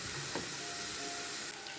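Potatoes boil and onions stew in a kitchen while a small river-fish dish is cooked, giving a steady close hiss and bubbling simmer throughout.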